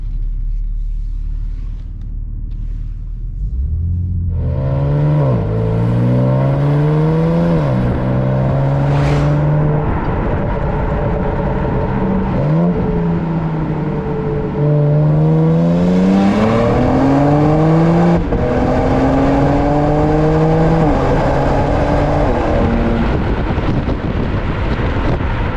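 A powerful BMW M5 engine with quad exhaust outlets revs up loudly through several gear changes at the Nurburgring, its pitch climbing and dropping repeatedly, with wind rushing over the microphone.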